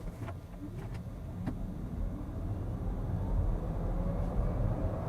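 A VW ID.4 electric SUV in rear-wheel drive accelerates hard on a wet road from standstill to 70 km/h, a quiet, steadily rising hum of motor and road noise heard from inside, with a few faint clicks early on.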